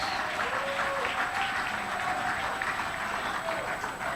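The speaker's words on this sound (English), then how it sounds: "Give them a round of applause." Audience at a conference of delegates giving a sustained round of applause, a dense, even wash of clapping heard alone from a distance.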